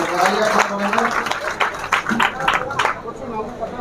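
Clapping from a small classroom audience at a coaching centre's Independence Day event, a dense patter of hands over several seconds with voices chattering underneath.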